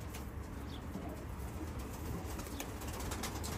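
Van breed pigeons in a coop, soft cooing calls from nearby birds over a steady background hiss, with an occasional brief flutter of wings.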